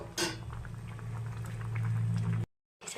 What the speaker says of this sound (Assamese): দি মই ঢাকনটো মাৰি দিম অলপ টাইম উতলি থাকিবৰ কাৰণে।